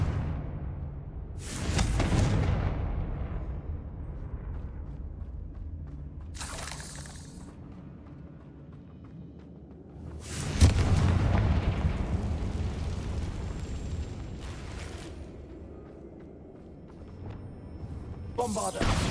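Fiery Confringo spell blasts from the Hogwarts Legacy video game, three sharp bursts spaced several seconds apart, each a bright crack trailing into a crackling rumble over a low game ambience.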